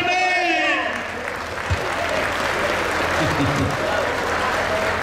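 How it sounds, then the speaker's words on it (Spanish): Crowd applause at a rodeo event at a ranch in Michoacán, a steady sustained wash of clapping heard at a moderate distance, with an announcer's voice and sound-system tones fading at the start. "No escuché el aplauso, señores."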